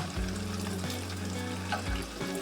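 Sabudana vadas fry in hot oil in a kadai with a steady, close sizzling hiss that holds level throughout, with a low hum underneath.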